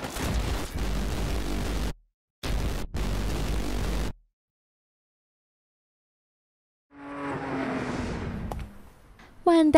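Explosions and gunfire in the online military shooter Ghost Recon Online, with walls collapsing and blasts knocking players down: loud bursts of noisy rumble in two chunks, a silent gap, then a further rising blast and crackle.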